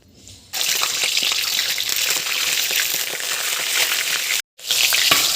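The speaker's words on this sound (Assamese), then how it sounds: "একদম পুৰা তেল ফুটি ফুটি ওলাইছে প্ৰথমতে গোটেই মাংসখিনি মই ভাজি লম" Broiler chicken pieces with skin, fried in mustard oil for a home-cooked mustard seed chicken, give off a loud, continuous sizzle that cuts out briefly before resuming.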